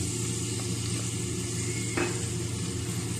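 Sliced onion sizzles steadily in hot oil inside a pressure cooker, a constant crackling hiss with a faint metallic clink partway through and no talking.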